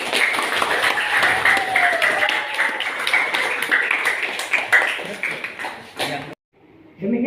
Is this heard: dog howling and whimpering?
no